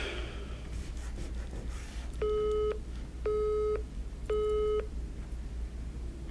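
Telephone busy signal: three evenly spaced tone bursts, each roughly half a second long with a short gap, steady and fairly clear over a low background hum.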